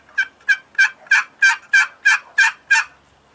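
A wooden turkey box call is played alone and up close, giving eight evenly spaced, loud yelping strokes that mimic a turkey, one side brighter for the hen and one raspier for the gobbler.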